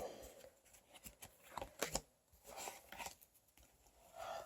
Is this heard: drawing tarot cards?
yes